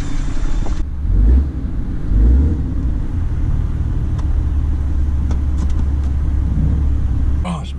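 A Cummins 6.7 diesel pickup truck engine running close by, a loud steady low rumble with two brief swells of revving, with people talking over it.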